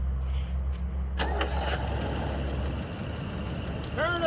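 A 1979 Buick engine cranks at the turn of a key, a short churning burst that then settles into a rough, low running rumble close by, with no talk.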